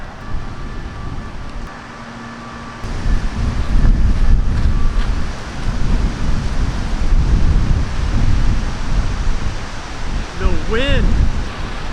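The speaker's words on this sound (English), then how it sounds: "We have a very strong wind in the face." Strong gusty wind on a golf course buffeting the microphone, a loud roaring rumble that swells after a calmer start, with a brief voice near the end.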